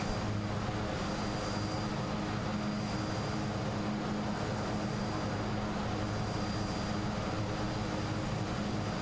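Continuous roar of a Twin Otter's propeller engines in a right bank in Microsoft Flight Simulator, broadband and even, with a thin high tone held throughout.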